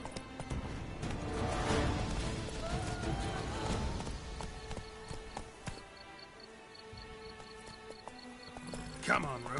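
Roach the horse galloping in The Witcher 3, hoofbeats thudding in a quick run that slows and fades, with a snort near the end and a voice speaking over it.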